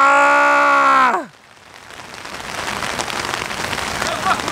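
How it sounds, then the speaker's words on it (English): Steady rain falls on a surface as a dense, even hiss that builds slightly after a loud tonal sound cuts off abruptly at the start. "this rain doesn't want to stop."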